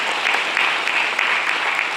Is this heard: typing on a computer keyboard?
no